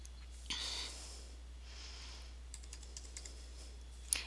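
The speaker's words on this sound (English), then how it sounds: "we're going to either type the title or the ISBN number" Quiet typing on a computer keyboard while entering a book's title or ISBN into a search field, a few soft scattered keystrokes with a short burst early and a sharper tap near the end.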